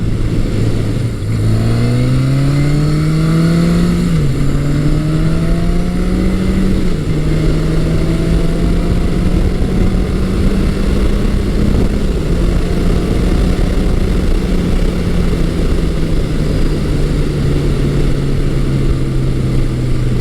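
A Yamaha XS1100 motorcycle engine running after carburetor work with larger pilot and main jets, a loud, steady, close rumble that rises and falls through several revs before settling into an even drone.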